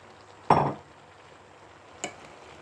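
A spoon stirs fried onion and carrot in a bowl set on the stove, making one short scraping clatter followed by a fainter knock a moment later, with quiet between.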